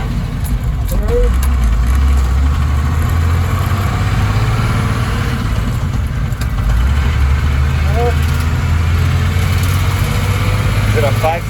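A heavy Etnyre distributor truck pulls away from a start, its five-speed gearbox shifting upward as the deep, steady engine drone rises and drops between gears. Voices talk over the continuous engine rumble.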